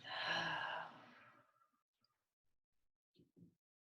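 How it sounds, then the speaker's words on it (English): A deep, breathy exhale out through the mouth, close and clear, fades over about a second, followed by quiet and a couple of faint soft breath or mouth noises. "Breathe in through your nose. Exhale out through your mouth."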